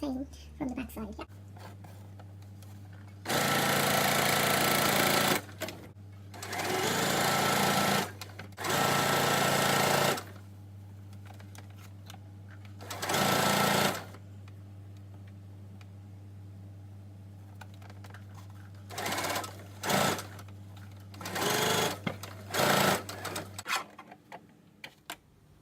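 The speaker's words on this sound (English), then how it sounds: "So I'm going to first do the stitching from here all the way there" Sewing machine stitching a seam on wide-leg sharara trousers, running in several loud, steady bursts of fast mechanical stitching separated by pauses, with a constant low motor hum underneath throughout.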